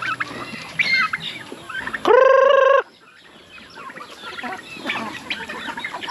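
Chickens with their chicks on a livestock farm cluck and call while being fed crushed yellow corn, a steady close flock chatter with one loud, sustained rooster-like call breaking through midway.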